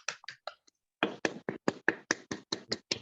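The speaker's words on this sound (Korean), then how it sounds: "박수 한번 부탁드리겠습니다" A few people in a Korean teacher-training session clap in sparse, separate strokes, at first a scattered handful and then a short steady run of distinct claps close by, with no voices.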